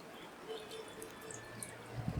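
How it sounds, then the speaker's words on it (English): Black and white developer pours into a film processor tray as a faint, steady trickle of liquid with small drips, close by and quiet, with no talking. "I'm ready to pour in the black and white developer and develop it for a minute"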